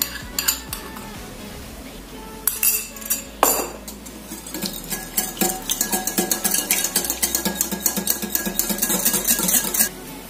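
Butter, milk and egg being mixed for twisted beignet dough, with a utensil clinking and scraping steadily against a bowl, the strokes growing faster and more rhythmic toward the end, close and fairly loud.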